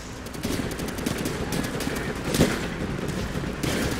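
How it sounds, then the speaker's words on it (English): Sustained machine gun fire in Call of Duty World at War rattles in fast, continuous bursts with a sharper impact midway, loud and dense, with almost no talking. "Machine gun!"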